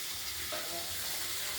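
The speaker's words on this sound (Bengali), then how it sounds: "তেলটার মধ্যে নাড়াচাড়া করে ভেজে নেব" Green beans frying in oil in a wok, a steady close sizzle with light stirring scrapes, no voices.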